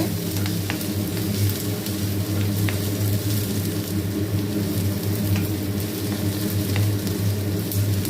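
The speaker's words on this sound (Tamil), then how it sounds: "நல்லா வெங்காயம் கலர் மாதிரி வாசம் வர வரைக்கும் நல்லா வதக்கிக்கோங்க" Onions are sautéed in a pan for an okra sabji, making a continuous loud sizzle with faint scraping of stirring and a low steady hum beneath.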